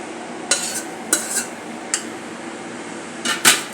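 A spoon scraping and clinking against a pan as fried vegetables are stirred into oil-roasted masala for kurma bhaji, a few distinct metallic scrapes spaced apart, close and fairly loud over quiet background.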